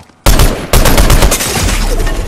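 Rapid video game gunfire landing headshots, a loud dense burst of shots that starts abruptly after a brief quiet, pauses for an instant, then keeps up as sustained firing to the end.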